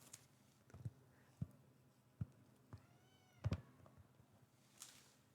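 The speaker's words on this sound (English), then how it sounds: "Sounds like the company cats are getting into the spirit." Cats meowing in an office during a quiet Halloween party setup, with several short, faint calls scattered over a few seconds amid soft tapping and handling sounds.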